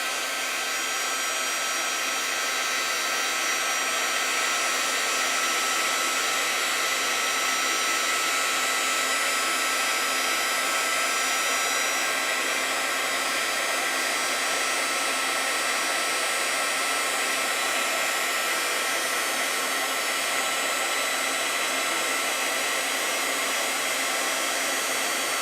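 A heat tool blows steadily for the full length while setting embossing powder on a Tim Holtz paper doll for an artist trading card, giving a loud, continuous hair-dryer-like whoosh with no pauses and no voices.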